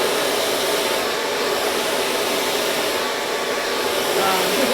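A hair dryer blows steadily at close range while short relaxed hair is dried with a large brush, a continuous broadband whoosh with slight swells in airflow and no voices.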